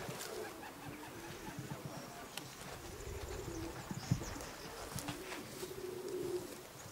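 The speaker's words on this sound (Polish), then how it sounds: "O, kolejne gołębie dolatują." Racing pigeons arrive at a loft and coo, soft low coos against a faint outdoor background with occasional wing flutters and light knocks.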